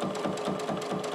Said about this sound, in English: and continue sewing